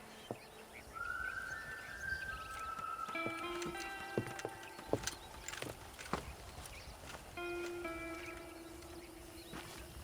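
Horse hooves clip-clop steadily at a moderate distance while herding cattle in the Red Dead Redemption video game, with occasional bird chirps and faint tonal calls over an outdoor ambience.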